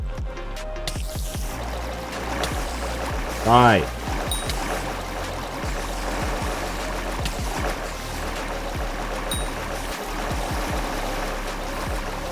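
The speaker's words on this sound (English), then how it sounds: "That's the only problem with the water wand. It's loud." A water wand spell firing in a video game: a steady rushing, pouring water stream running throughout, with bubbly trickling detail and a brief rising swoosh midway, while a person talks over it.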